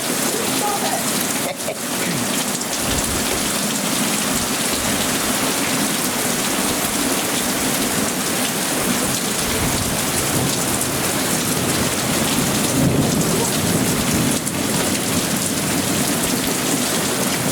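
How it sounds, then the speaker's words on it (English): Heavy rain pours steadily and loudly during a powerful thunderstorm, a dense unbroken roar close by, with a voice faintly under the downpour. "I said there was one mother of all storms coming in, and here it is"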